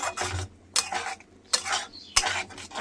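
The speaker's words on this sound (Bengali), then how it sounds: "মশলাটা ভালো করে কষানো হোক যেহেতু সর্ষে এটা ওই জন্য আমি বেশি কষাবো না" Mustard spice paste being stirred and sautéed in a pan for a fish curry: a spoon scrapes the pan in four distinct bursts with short pauses between them, over a faint, low background hum.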